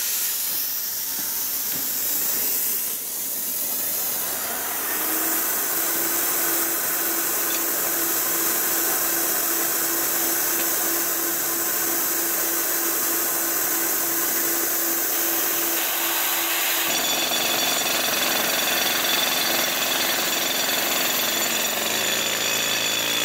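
A rock drill bores a blast hole into rock of the Lilydale Formation with a loud, continuous pneumatic hammering and hissing that holds steady throughout and shifts pitch partway through.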